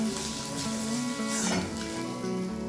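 Rohu fish frying in hot oil and being lifted out of the pan, a steady close sizzle and crackle running throughout with a faint scrape of the utensil.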